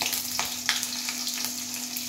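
Crushed garlic cloves and cumin seeds sizzle steadily in hot oil in a kadhai, a continuous close frying hiss with a few brief stirring scrapes.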